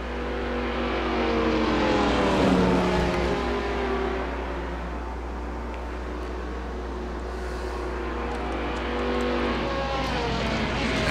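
A Dodge Viper and a Ferrari racing at Mugello in a racing game, loud sustained engine roar with layered revving tones rising and falling as the cars pass, no talk.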